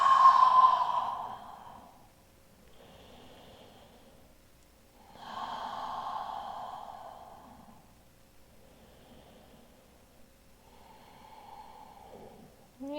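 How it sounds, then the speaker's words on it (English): Slow, deep breathing during a yin yang yoga session: two long audible exhales, sigh-like and close, separated by quieter inhales, with no talking. "Let's take 3 to 5 more full breaths. Inhaling nice and slow. Exhale, let it go."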